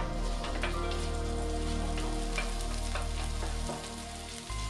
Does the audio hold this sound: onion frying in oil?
yes